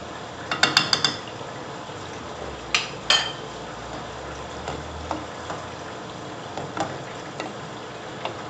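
A utensil stirring tortellini with cream in a pan makes sharp metallic clinks and scrapes, a quick cluster at first and then scattered taps over a faint low hum.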